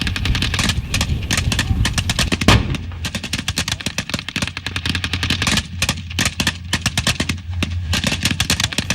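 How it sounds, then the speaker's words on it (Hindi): A tank firing on the front line in a Syrian war zone, with rapid, loud bursts of gunfire and heavy blasts repeating steadily close by, no talk over them. "मेरे बगल में बिल्कुल एक टैंक है जो फायरिंग जिसने शुरू कर दी है।"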